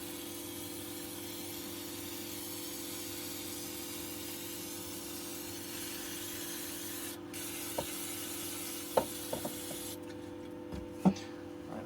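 Aerosol spray hisses steadily onto small gears and parts from a Suntour HESC CAN e-bike motor during teardown, a continuous close hiss with a few sharp clicks and taps near the end.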